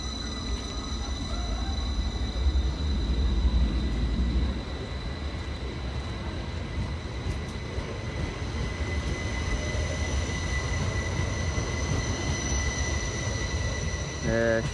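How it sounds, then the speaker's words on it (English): Class 333 electric train 333014 departing Bradford Forster Square station, a steady close rumble of rolling stock with faint wheel squeal and a brief low horn or engine swell early on. "departing now is the last train of the day, which is 333014 on its way to, I can't remember, Skipton"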